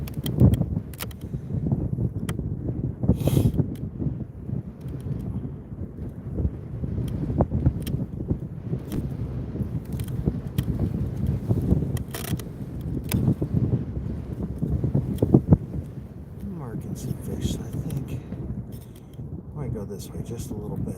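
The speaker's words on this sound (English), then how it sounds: "Oh, that wind is chilly on the face." Wind blows steadily outdoors on the ice while ice fishing, a constant low rumbling buffet with gusts against the microphone, and a person talks over it at intervals throughout.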